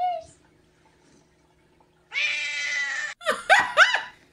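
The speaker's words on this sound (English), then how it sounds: "Today I learned that my cat does not like sandwich hugs." A cat squeezed in a sandwich hug lets out a long, loud drawn-out meow, then a few sharp yowling cries close up, after a brief quiet stretch with faint voices.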